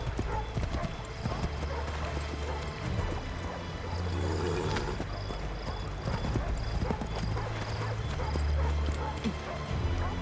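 A horse gallops in Assassin's Creed 3, its quick hoofbeats drumming continuously under game music, ambient noise and spoken dialogue, with a brief neigh-like call in the mix.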